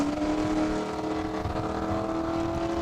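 A 1987 Chevy Blazer drag racing on a single pass at Saskatchewan International Raceway, its engine roaring loud and steady with a strong droning tone throughout, no voices heard.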